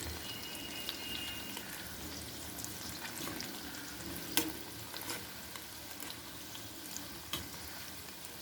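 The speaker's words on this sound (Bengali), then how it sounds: "তো ইমিডিয়েটলি একটা পিঠ ভাজা হয়ে যায় একদিকে" Food fries in very hot oil over a low flame, a quiet steady crackling hiss with occasional soft pops and ticks, fairly faint and even throughout.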